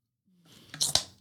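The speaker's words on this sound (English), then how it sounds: "Listen to that crunch." Crisp crunching of a Korean snack being chewed, a few close, sharp bites building over about a second, with no talking.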